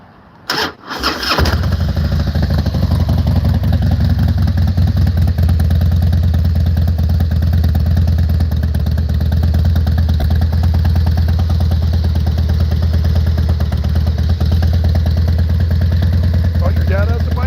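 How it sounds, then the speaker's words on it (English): A Harley-Davidson Softail motorcycle engine cranks and fires up, then settles into a loud, steady, rumbling idle close by, continuing for the rest of the stretch. "Sound of my bike here."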